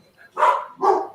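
Two loud, close dog barks about half a second apart, each a short burst, with a faint sound just before them and nothing else around.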